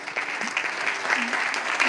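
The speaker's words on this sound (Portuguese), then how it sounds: "Palmas para Jesus." A church congregation in Brasília applauds in praise after a hymn, giving a dense, steady round of clapping with a few voices faintly mixed in.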